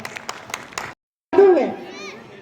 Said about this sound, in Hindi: जोरदार तालियां संगीता जी के लिए